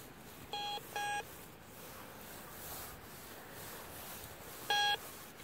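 Three short electronic beeps from an OMMO metal detector, two close together early on and a third near the end, over a steady rubbing, scraping background.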